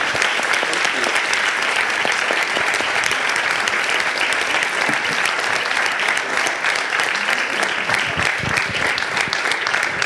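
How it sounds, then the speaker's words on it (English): An audience at an evening event with author Gary Shteyngart gives a sustained round of applause, a steady dense wash of many hands clapping at even loudness throughout. "Can we give one more round of applause for Gary Shteyngart?"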